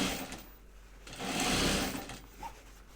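Sewing machine stitching a seam on a prototype bag, a steady close motor whir that swells louder mid-run and then eases off, with no talking.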